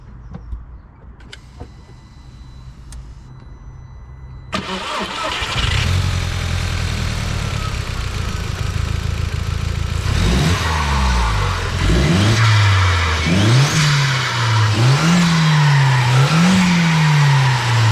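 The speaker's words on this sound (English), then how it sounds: "I'm going to start it up for you and let's have a listen to this beauty" A Mk1 SEAT Leon Cupra R engine cranks and fires up, settles into a steady idle, then is blipped through several rising and falling revs, loud and close with no talking.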